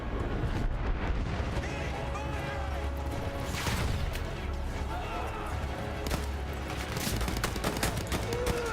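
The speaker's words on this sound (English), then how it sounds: "You got artillery." Artillery and gunfire in the video game Battlefield 1, a dense, continuous barrage of booming blasts and rattling shots, loud and busy throughout, with someone talking over the combat noise.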